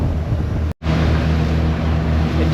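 Wind gusts over a boat on choppy, cold Long Island Sound, a loud, steady roar of rushing air and buffeting broken by one brief dropout.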